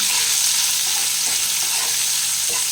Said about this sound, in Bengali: এখানে যেটা পেঁয়াজটা কেটে রেখেছিলাম সেটা আমি দিয়ে দেবো এটা একটু ভেজে নেব